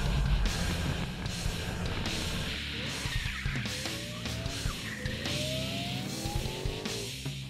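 Drift car at a French drift championship trial sliding through the track's drift zone, engine roaring with rapid rev surges and bursts of tire noise, heard at a middle distance with a faint voice over it.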